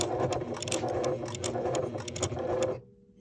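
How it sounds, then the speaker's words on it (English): Sewing machine stitching forward then back-stitching through thick layers of upcycled denim on a jeans purse strap, a steady mechanical whir with needle clatter for nearly three seconds before cutting off abruptly. "So we're going to take some stitches and then back stitch."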